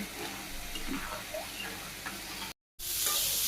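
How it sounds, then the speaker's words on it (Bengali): Vegetables fry with spices in a pan in a Bangladeshi village kitchen, a close, continuous sizzle and stirring scrape that cuts out in a brief silent gap before resuming loudly. "এইভাবে আমি আস্তে আস্তে ভাজি করে নিই"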